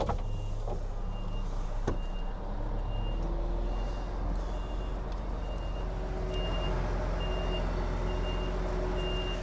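A heavy goods truck turns around with its reversing alarm sounding a steady string of evenly spaced beeps over a loud diesel engine drone, with a brief hiss of air brakes.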